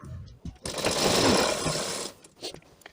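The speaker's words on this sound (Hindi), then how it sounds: "तो इसमें हम किनारे पे सिलाई लगा लेते हैं।" A sewing machine runs steadily for about one and a half seconds, stitching along the edge of a fabric strip to make piping for a blouse sleeve, with a few soft handling clicks before and after.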